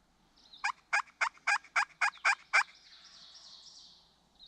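A wild turkey gobbles in a fast rattling burst of about eight loud pulses, followed by a fainter trailing call, with a quiet outdoor background.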